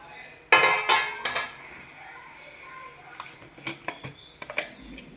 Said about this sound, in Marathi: आता याच्यामध्ये कांदा, टोमॅटो हे सगळ्या वस्तू आता याच्यात टाकून घेणार